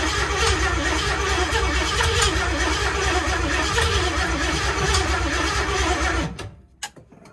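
A loud car engine runs steadily with a rough, rumbling idle, then cuts off abruptly near the end, followed by a few faint clanks.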